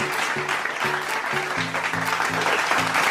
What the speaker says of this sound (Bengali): আবার একবার জোরে হাততালি